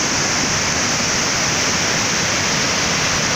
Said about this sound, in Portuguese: a água cortando aqui no meio dessa pedra